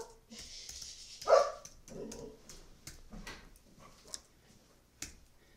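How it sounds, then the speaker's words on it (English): A feisty dog gives a single short bark in the background, faint and brief, among quiet room noise and soft clicks. "my dog is feeling a little feisty this morning, as you can hear in the background"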